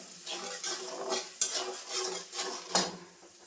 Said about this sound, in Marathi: व्यवस्थित मिक्स करून घेते.